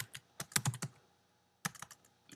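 Quick bursts of keystrokes on a Mac computer keyboard, a cluster of taps followed by a pause and another short flurry, close and clear with no talk over them.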